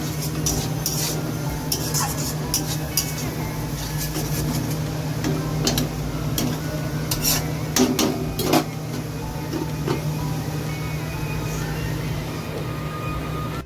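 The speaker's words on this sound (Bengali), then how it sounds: "এটাকে ভালো করে কষিয়ে নেব" Chicken curry with yogurt is stir-fried in a pan, a continuous close sizzle broken by repeated clinks and scrapes of a utensil against metal.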